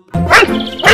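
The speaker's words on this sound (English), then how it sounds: "D for dog." A dog gives a loud, close bark followed at once by a second short bark, clear and alone, within about a second.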